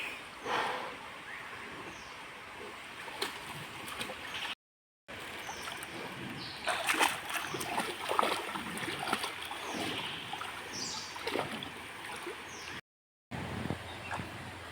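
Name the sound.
river stream water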